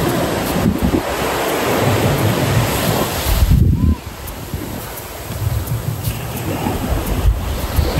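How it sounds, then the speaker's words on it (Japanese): Ocean waves washing onto a summer beach, a loud continuous surf roar with heavy wind buffeting the microphone and swells rising and falling, close by. "リオちゃんは今海に浸かってます"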